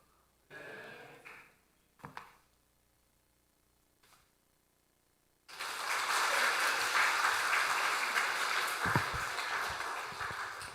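Congregation applause in a church service: after quiet with a few small noises and faint breaths, a dense, steady wash of clapping breaks out and holds for about five seconds.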